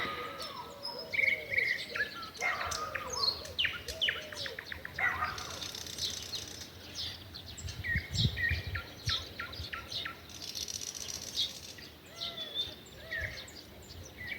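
A nightingale sings in a rural garden at dawn, delivering varied rapid trills, whistles and chirped phrases at moderate distance, with crickets and other birds faintly in the background.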